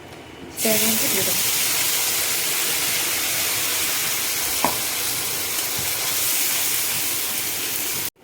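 Paste of ginger, green chili and tomato hitting a hot pan with whole garam masala, bursting into a loud, continuous sizzle and hiss that holds steady, with a brief voice at the start and a couple of small clinks.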